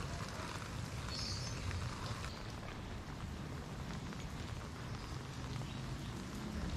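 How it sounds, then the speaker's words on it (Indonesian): Steady rain falls in Jakarta, a dense continuous hiss of drops on surfaces, fairly faint and even, with no voices. "Kadang hujan dengan intensitas tinggi, namun kadang berintensitas rendah."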